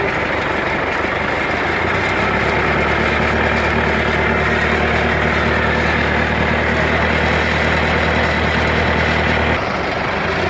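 Isuzu 4JJ1 diesel engine running while emitting white smoke, a loud, close, steady low rumble that holds evenly for nearly ten seconds before cutting off at the end.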